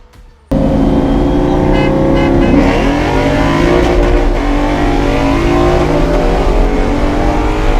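A Ford Mustang with a loud Roush axle-back exhaust starts up abruptly and holds a steady, heavy rumble, revving close by with no voices.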